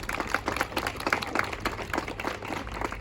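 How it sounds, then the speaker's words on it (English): Wedding guests give a round of applause, a dense, steady patter of many hands clapping at moderate distance for about three seconds. "So can we please give a round of applause?"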